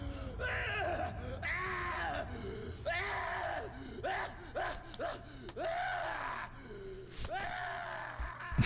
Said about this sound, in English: I shouldn't laugh really, but those screams were quite amusing.